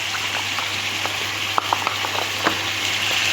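Biryani spices, including two spoons of cumin masala and salt, sizzle steadily in a hot pan, with a few sharp scraping stirs breaking through the constant frying hiss.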